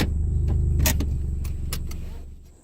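A Hyundai Genesis idles and rolls as it backs up a short distance, a steady low engine rumble with a few brief clicks and knocks over it, fading slightly at the end.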